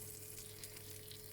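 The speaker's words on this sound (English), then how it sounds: "Can you hear the sound of the bread or the butter sizzling?" Butter and bread sizzling in a frying pan while making a homemade Popeyes-style chicken sandwich, a steady, close crackling fry that holds an even level throughout, with no talking.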